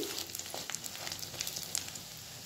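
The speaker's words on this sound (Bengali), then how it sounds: "একটা সাইড ভাজা হয়ে গেছে, আরেক সাইড উল্টে নিচ্ছি।" Bread pakora crackles in hot oil as it is flipped, a moderate close sizzle dotted with quick pops and spits over a continuous hiss.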